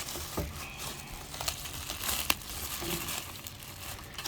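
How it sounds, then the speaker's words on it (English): Packaging being torn and crumpled off new aftermarket Jeep fenders for a 2014 Jeep JKU, a quiet, irregular rustle of crinkling wrap with scattered sharper rips, no talking. "Oh my goodness, she got to unwrap them too."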